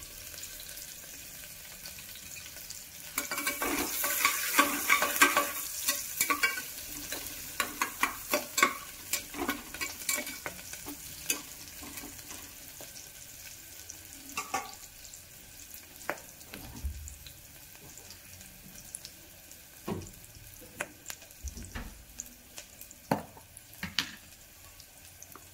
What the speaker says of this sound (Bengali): এবারে এতে অ্যাড করব একটু পেঁয়াজ কুচি, আর একটু লঙ্কা চিড়ে দিয়ে লঙ্কা রেখেছিলাম